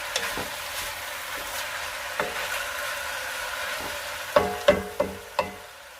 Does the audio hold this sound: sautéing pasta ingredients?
yes